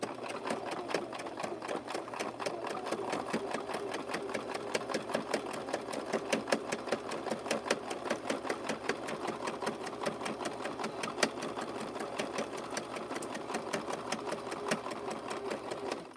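A sewing machine stitches a wave into a rope bowl, running steadily with a rapid, even mechanical rattle close by the whole time.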